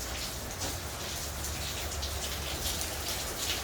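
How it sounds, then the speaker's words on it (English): Rain falling outdoors beside an RV under repair, a steady dense patter of drops hitting surfaces, close and continuous with no talk. "Working in the rain."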